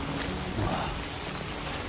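Heavy rain pours down in the video game Death Stranding 2, a dense, steady wash of drops with no voices.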